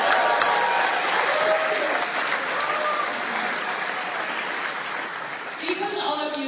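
Sustained applause and cheering from a large audience at an affiliate-program seminar, a dense steady wash of clapping that holds for several seconds and eases slightly near the end, with voices mixed into the crowd.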